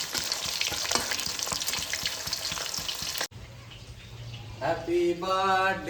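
Chital fish fries in a pan with a steady, close sizzle and crackle for about three seconds before it cuts away to voices.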